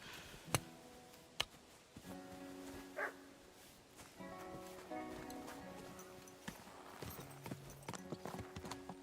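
Hooves of a horse in Kingdom Come Deliverance 2 clip-clop in a steady walking rhythm at moderate volume, with sharp clicks and a soft medieval music bed underneath.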